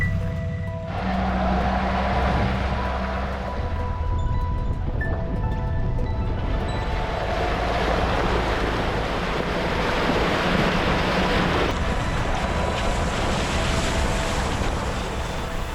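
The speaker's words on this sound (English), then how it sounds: "all these riverbeds have still plenty of water laying around, so we're in for a real fun drive" A Nissan Patrol Y62 4WD drives through water lying in riverbeds in the Flinders Ranges, with continuous loud sloshing and surging water mixed with engine rumble and wind buffeting across the whole stretch.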